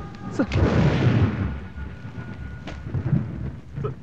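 Heavy rain and rolling thunder in a film scene, a loud low rumble swelling early and fading under a steady wash of rainfall.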